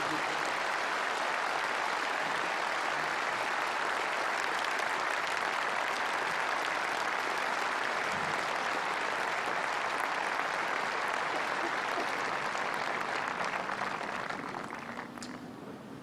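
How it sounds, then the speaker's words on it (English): A large crowd at a memorial for the Christchurch mosque victims gives sustained, dense applause that carries on evenly for many seconds, then begins to fade at the very end. "Ladies and gentlemen, please, another round of applause."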